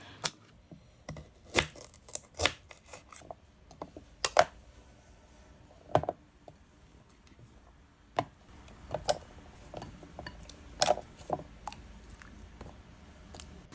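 Sweet potato being sliced into 1 cm pieces: a steady, uneven series of sharp knife chops against a board, close and fairly crisp, with no talking.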